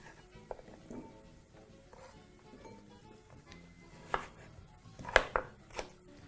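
Potatoes are chopped into half-inch cubes with a knife on a cutting board, a few scattered soft taps building to several sharper, louder knocks near the end, close and quiet with no voices.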